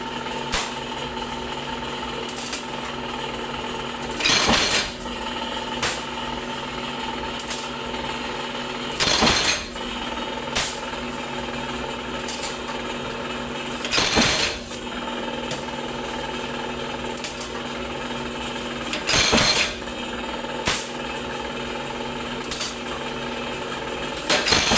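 A power press runs over a steady mechanical hum, with a loud pressing stroke landing about every five seconds and lighter clatter in between.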